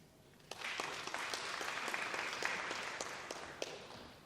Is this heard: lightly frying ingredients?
no